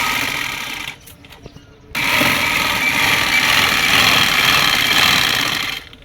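A sewing machine runs steadily while stitching the seam of palazzo pants, with a short pause near the start before a long continuous burst of close, even whirring.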